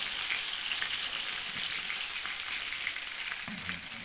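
Chicken fillet sizzling steadily in soy-honey sauce in a pan, a constant close frying hiss with faint crackles throughout and no voices.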